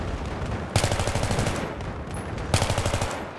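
Gunfire in the video game Battlefield 3 comes as two short bursts of rapid automatic shots, loud and close, separated by a brief pause.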